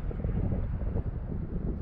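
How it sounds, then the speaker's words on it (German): Strong wind blows across a vineyard during vine pruning, roaring as a loud, steady buffeting rush straight into the microphone, with no speech. "jetzt kommt der Wind hier"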